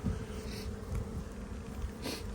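Bees buzz around an overwintering beehive that is full of honey, a dense continuous hum of many insects close by, with individual bees whining louder as they pass near.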